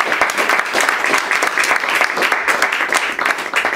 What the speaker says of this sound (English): Let's give the poets another round of applause for a brief evening.